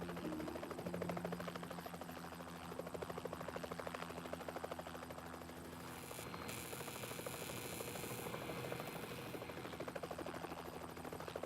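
A steady helicopter rotor chops and drones throughout, fairly close and constant, with no talking over it, as the helicopter works near high-voltage power lines.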